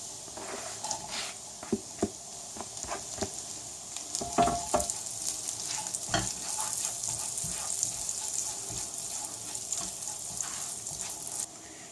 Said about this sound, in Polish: Podsmażamy czosnek około 30 sekund, żeby wydobyć aromat, a go nie przypalić